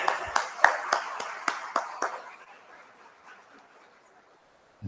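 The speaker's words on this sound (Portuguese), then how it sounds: "Podem aplaudir." A small church anniversary audience gives a short burst of about eight distinct, evenly spaced claps that fade into quiet, with a brief murmur at the end.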